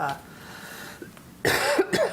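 A soft, muffled rumble gives way to a short run of close, harsh coughs near the end.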